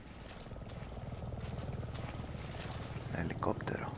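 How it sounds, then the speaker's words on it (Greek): A helicopter passes in the video game Resident Evil 7, a faint, steady low rotor rumble that holds throughout, with a brief voice-like sound near the end. "Ελικόπτερο."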